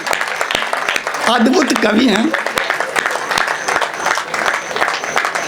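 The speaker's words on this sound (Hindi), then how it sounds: "बहुत जोरदार तालियां" Audience applause at a Hindi kavi sammelan poetry recital in a township hall, a dense crowd clapping that carries through the clip while a host speaks over it.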